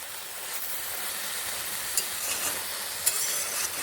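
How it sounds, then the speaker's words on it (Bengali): Spinach and mung dal are stirred in a pan, giving a continuous dense sizzle and hiss with occasional light clicks of the spoon against the metal. "ভাবে কিছুক্ষণ নাড়লাম নাড়তে নাড়তে আমার শাকগুলোও প্রায় এই পর্যায়ে এসেছে"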